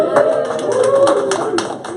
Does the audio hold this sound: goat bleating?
no